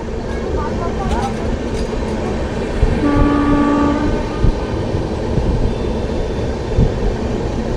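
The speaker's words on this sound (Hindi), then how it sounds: "ट्रेन का हॉर्न हो चुका है" An Indian passenger train on a diverted route near Rohtak sounds a single horn blast of about a second amid steady rail rumble and clatter, with a voice talking faintly beneath.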